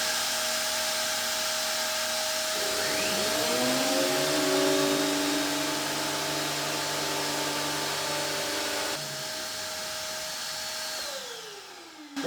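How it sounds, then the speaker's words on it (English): A large workshop vacuum cleaner spins up and roars steadily and loud for several seconds, its motor pitch rising and settling into a sustained whine before winding down near the end. "So now, stick on the big hoover."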